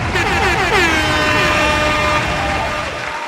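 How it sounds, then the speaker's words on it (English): A loud, blaring air horn sounds in repeated sweeping blasts, filling the whole clip before tapering off at the end. "I'm going to play some horns on it."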